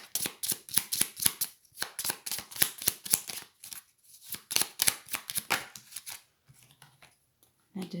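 Tarot cards are laid out one by one for a reading, giving a rapid run of crisp close flicks and slaps that thins out near the end.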